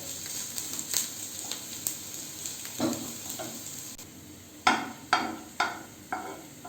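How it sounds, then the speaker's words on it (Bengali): Garlic and onions fry softly in a pan for a chicken soup, a quiet, continuous sizzle broken by several sharp spatula scrapes and stirring strokes toward the end. "সাথে ভালো করে রসুনটা ভেজে নিতে হবে।"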